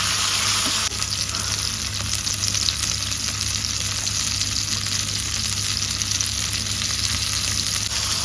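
Fish coated in mint and green chili pan-fries with an even, continuous sizzling hiss close by, one small knock near the start and no speech over it.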